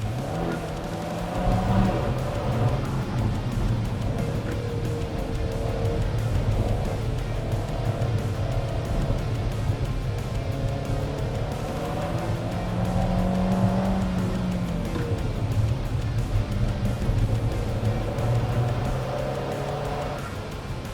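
An Alfa Romeo 4C mid-engine sports car driving on a road, its engine a steady loud drone that rises and falls with throttle, heard from inside the car alongside road and tire noise.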